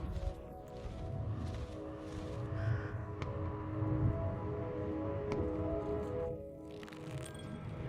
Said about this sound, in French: Ah, le corbeau les a alertés